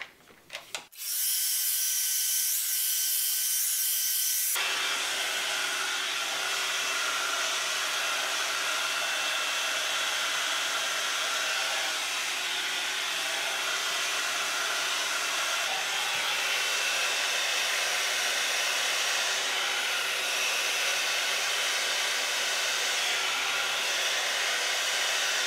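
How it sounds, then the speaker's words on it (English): A steady, loud whirring hum of a hot air brush drying hair runs continuously after a brief start, with no talking. "this will give you more of a salon blow dry"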